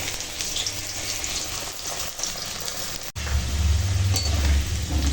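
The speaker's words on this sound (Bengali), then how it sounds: "এখন তেল গরম হয়ে গেছে আর এই মাংসের জন্য আলুটা ভেজে নেব" Potato pieces fry in hot oil for a chicken curry, giving a steady close sizzle that grows louder and fuller after a brief dip partway through.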